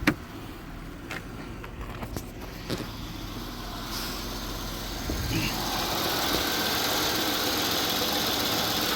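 Buick LeSabre engine running at a steady fast idle after new spark plug wires, with a constant low rumble and broadband mechanical noise, a few sharp ticks early, growing slightly louder toward the end.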